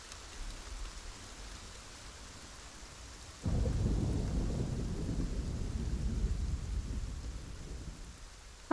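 Steady rain pours throughout, swelling sharply into a loud rumbling roll of thunder partway through that stays heavy and dense before easing slightly at the end.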